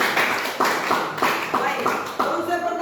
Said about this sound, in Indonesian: Tepuk tangan untuk yang bertanya dulu.